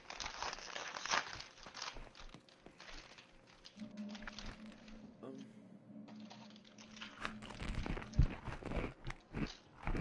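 Crunchy munching and chewing of food close to a headset microphone during a co-op shooter session, coming in irregular bursts with crinkling sounds and a low hum.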